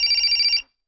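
A telephone bell rings in a quick trilling burst, clear and close, then cuts off abruptly; no voices.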